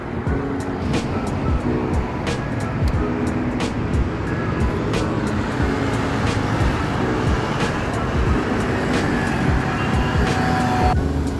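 Busy road traffic in Milan on September 1, with many vehicles passing, forms a loud, continuous rumble with repeated sharp transient clicks or knocks and no talk.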